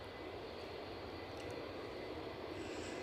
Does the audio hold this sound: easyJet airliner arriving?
yes